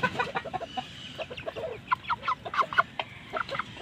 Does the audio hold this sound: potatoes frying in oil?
no